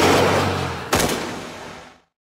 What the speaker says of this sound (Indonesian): saat sniper lawan ingin membunuh Yeqiu, langsung saja ditembak oleh Su Mucheng